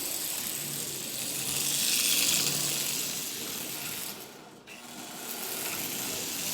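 A repaired Marx diesel toy train motor with a new gear and brush plate runs along the rail on its first trip, giving a steady whirring, ratcheting hum that swells and dips slightly.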